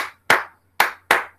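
Hand clapping keeping rhythm during a school dance lesson, four sharp close claps, the last three evenly spaced, standing alone between short silences.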